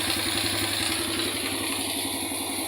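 A 100cc motorcycle engine running in second gear during an overhaul test, giving a steady rapid throbbing clatter that stays loud and close throughout with no talk.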